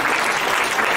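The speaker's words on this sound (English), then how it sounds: "Let's give a round of applause for Professor Lahav." Steady, dense applause from a lecture audience honoring Professor Lahav, speaking on Golda Meir, filling the room evenly and loudly with no breaks.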